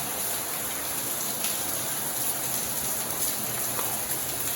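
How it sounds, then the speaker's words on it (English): A small waterfall trickles inside a cave, giving a steady broadband hiss of falling and splashing water that stays even and unbroken, with no voices. "Got a miniature little waterfall there coming down."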